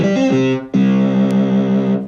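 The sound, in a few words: Casio CZ-1000 synthesizer playing two layered bass tones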